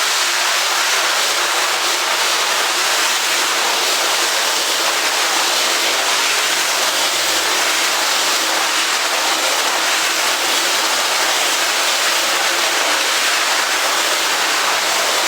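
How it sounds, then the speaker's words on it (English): Water sprays onto a screen-printing screen during washout, making a loud, steady hiss of spray that holds without a break throughout. "we're just going to try and hit this thing real slowly with a small amount of water"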